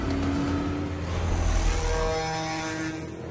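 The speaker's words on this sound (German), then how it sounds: "Ah, ja, sogar mit Helikopter." A helicopter in the racing video game Need for Speed The Run, a loud steady rotor and engine drone with a rhythmic chopping pulse that fades slightly toward the end.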